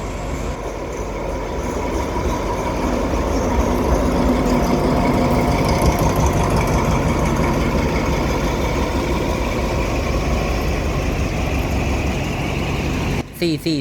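A heavy Thai railway diesel locomotive engine rumbles loudly and steadily up close at Lopburi station at night, a deep continuous drone with mechanical clatter, ending with a few sharp knocks.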